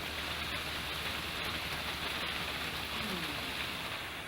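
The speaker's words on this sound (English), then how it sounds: "For 2 days and nights, it hardly stopped raining." Steady monsoon rain in Thailand falls continuously, a dense, even hiss of heavy downpour with no breaks, fairly close and filling the whole scene.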